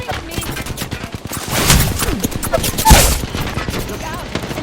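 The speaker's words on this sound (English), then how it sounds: "They're shooting at me!" Bursts of rapid gunfire in the Apex Legends video game during a close firefight, loud and dense with peaks around the middle, while a voice talks over the shots.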